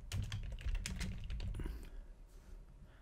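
Quick bursts of typing on a computer keyboard, close and fairly loud, with dense key clicks for the first two seconds before thinning to a few scattered taps.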